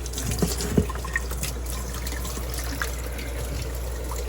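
Water trickles steadily as hatched brine shrimp eggs are rinsed, a soft continuous flow with a few small splashes and drips near the start over a low background hum.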